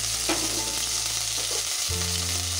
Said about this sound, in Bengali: তেল গরম হয়ে গেছে, এবার আমি এর মধ্যে আদা রসুনটা দিয়ে দেবো।